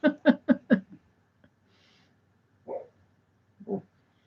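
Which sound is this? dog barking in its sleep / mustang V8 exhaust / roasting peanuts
dog barking in its sleep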